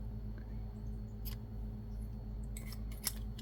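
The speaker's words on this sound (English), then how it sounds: "we're going to take scissor, cut off about an inch or so" Scissors snip yarn in a few quick, faint, close metallic cuts clustered near the end, over a low steady background hum, with no talking.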